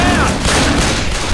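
Loud, continuous burst of gunfire from the zombie shooter Left 4 Dead 2, a dense fusillade of shots filling the whole short stretch with no pause.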